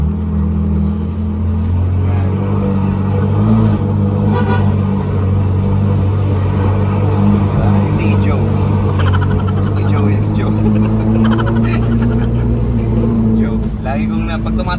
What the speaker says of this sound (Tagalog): maingay daw yung Ferrari